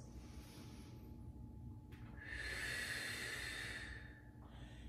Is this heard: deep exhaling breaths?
yes